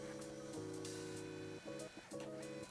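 A Brother VC-500W colour label printer draws in a fresh label roll, giving a steady mechanical whirring hum with a brief pause and a couple of shifts in pitch before the motor resumes.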